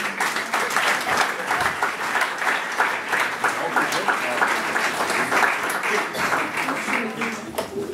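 A theater audience applauds steadily throughout, a dense, even wash of clapping from many hands at an amateur stage play, with faint voices beneath.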